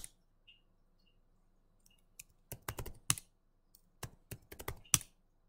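Computer keyboard keys tapped while a password is entered, quiet at first, then bursts of distinct clicks in quick irregular clusters, close and crisp with no talking.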